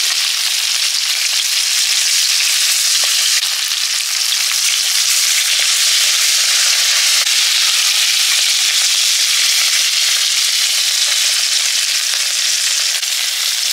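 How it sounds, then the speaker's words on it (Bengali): Hilsa fish pieces shallow-frying in hot oil in a pan give a steady, loud, continuous sizzle and crackle that fills the whole stretch, with no voices over it. "মাছগুলো হালকা ভেজে তুলে নিচ্ছি"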